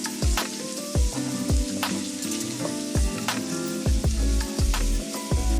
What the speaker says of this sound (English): Now we're going to break down our ground beef to make sure it's well combined with our onions and garlic.